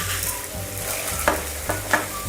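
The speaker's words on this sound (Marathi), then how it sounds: "आता मी डिंक आहे ना तो कढईमध्ये तळायला सोडते।" Edible gum (dink) frying in hot ghee in a kadhai, a steady soft sizzle and bubbling hiss with a few faint stirring clinks, no voices.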